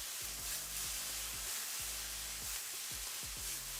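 Tomatoes cook in a hot pan, giving a steady close sizzling hiss with soft low rumbling bumps recurring underneath, and no talking.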